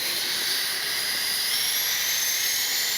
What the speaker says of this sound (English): Reverse thrust braking